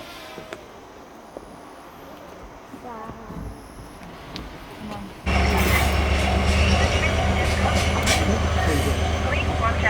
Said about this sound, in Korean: 열차가 도착합니다. 주의해 주십시오.